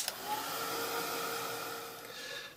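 A handheld dryer blowing to dry paint on a mixed media art journal page, a steady whirring airflow that runs continuously and close, with no talking.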